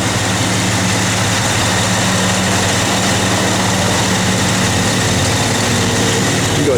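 A restored 1970 Chevrolet Chevelle SS with its engine idling loudly and steadily up close, a constant deep rumble with no voices over it.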